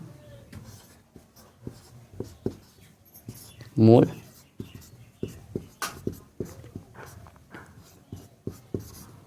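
A pen scratches out notes in a steady series of short, crisp strokes and taps, close and fairly quiet, with one brief louder voiced sound midway.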